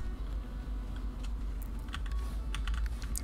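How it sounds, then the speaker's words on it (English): Computer keyboard being typed on with sharp, irregular key strikes over a steady low hum, close and moderately quiet. "Now you can hear me freaking slap on my keyboard though on my videos."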